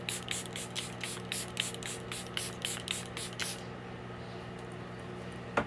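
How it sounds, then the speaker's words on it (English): Charlotte Tilbury Airbrush Flawless setting spray is misted onto a face in about a dozen quick, close, rhythmic pumps that hiss briefly each time, then stop and leave a quiet room. "I'm going to spray and really douse yourself when you use setting spray"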